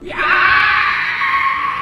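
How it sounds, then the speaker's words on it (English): A giant mutated spider creature in a movie screams in pain, one loud sustained shrieking cry lasting nearly two seconds, harsh and close with no talk. "The creature screams in pain."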